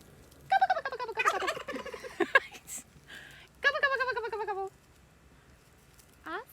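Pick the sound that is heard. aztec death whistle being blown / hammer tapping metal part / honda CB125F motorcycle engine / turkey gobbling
turkey gobbling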